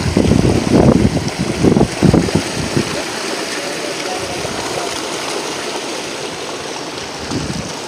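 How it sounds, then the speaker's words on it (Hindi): Water from a solar-powered tube well pump gushes out under pressure in a steady rushing stream, louder and choppier in the first few seconds, then settling into a constant hiss. "ये पानी का प्रेशर है"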